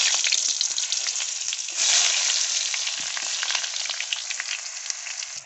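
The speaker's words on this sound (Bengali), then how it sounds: "ভাজা হচ্ছে।" Eggplant pieces fry in hot oil in a kadai, a bright close sizzle that crackles and spits steadily throughout, with no voices.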